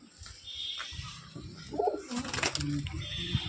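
A full-crested male pigeon coos softly nearby in low, rolling phrases, joined by a brief flutter and faint background noise at a home loft.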